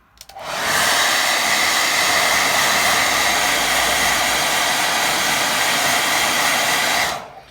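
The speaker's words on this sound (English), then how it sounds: "I'm going to get a tiny bit of a dry." Hair dryer blowing on watercolour paint, switched on to a loud, steady airy roar close by that holds for about six seconds before cutting off.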